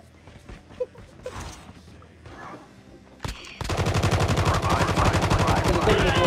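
Rapid automatic gunfire from a video game erupts after a few sparse, scattered shots and game noises, becoming a loud sustained burst in the second half.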